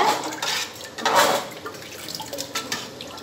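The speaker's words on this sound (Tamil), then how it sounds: "ஜவ்வரிசி போட்டோன்னா நீங்கள் கிண்டிடுங்க." Soaked sago is stirred in a pot of water, giving soft watery sloshes and light scraping against the pot in short, uneven bursts, close by.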